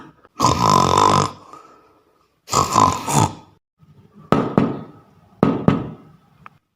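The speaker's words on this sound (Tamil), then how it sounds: "கதவு தட்டுற சத்தம் கேட்குது" Sharp knocks on a door at midnight, first loud vocal-like bursts then two quick pairs of hard raps standing out alone against a quiet room in a Tamil comedy sketch.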